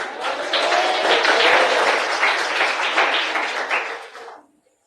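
A church congregation claps to welcome a woman coming up to read the Bible passage, a full sustained round of applause that swells, holds and then fades out to silence near the end.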